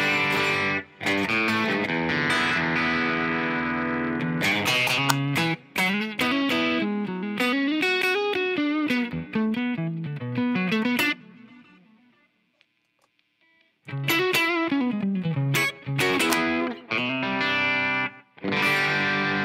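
A Novo Idris electric guitar played through an amp on its Bassman setting rings out loud and distorted, with strummed chords and single-note runs, a short pause partway through, then more chords.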